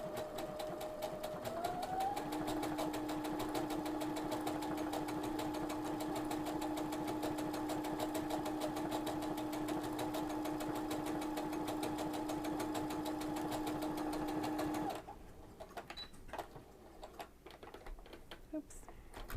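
A sewing machine stitches a fringe with woolly nylon thread, a fast continuous rattling whir with a steady hum that runs for about fifteen seconds, then stops, leaving light handling clicks.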